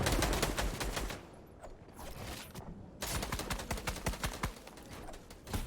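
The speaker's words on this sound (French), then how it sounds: "deux petites balles de SMG qui vont passer hein" Repeated bursts of SMG gunfire from a Fortnite match crackle in quick salvos, a dense run of sharp shots, a short lull, then another rapid volley, loud and close with no talking.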